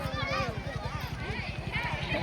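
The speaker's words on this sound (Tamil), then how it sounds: "இந்த குதிரை மட்டும் வருது" Rapid, even hoofbeats from a lone horse approaching through a Tamil Nadu village during Mattu Pongal, close and continuous, with people chattering around it.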